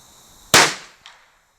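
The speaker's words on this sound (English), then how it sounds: "Let's shoot our cold bore and get rid of that." A single cold-bore rifle shot, one loud sharp crack that decays over a fraction of a second, followed by a fainter secondary report or echo, close and alone with no talk.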